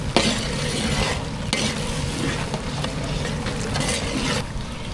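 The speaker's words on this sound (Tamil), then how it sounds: "மசாலா சேர்த்தாச்சு நல்லா கலந்து விட்டுக்கலாம்" Masala being stirred into chicken gravy makes a dense, continuous scraping and bubbling sizzle from a pot, close and steady throughout, with a sharp clank near the start and no voices.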